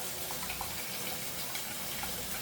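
Tap water pours steadily into a cooking pot for Cajun-style rice with stewed oxtail, a continuous close splashing rush with no talk.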